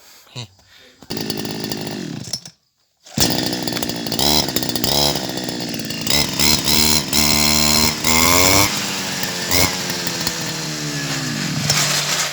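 A small two-stroke brush cutter engine, a Taiwanese-made model, starts up and runs loud and close, its buzzing pitch rising and falling as the throttle is revved repeatedly.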